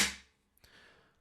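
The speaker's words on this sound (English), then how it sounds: "little drinks mat with a lovely picture of me and my brothers, just again hitting it on the table," A small drinks mat slapped against a table as a homemade snare sample: one sharp, bright crack with a quick decay, followed by a quieter second tap and a brief rustle.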